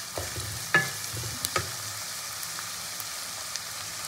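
Chopped onions fry in a pan with a soft continuous sizzle, punctuated by a few sharp scrapes and taps of a spatula stirring them, close and alone without talk.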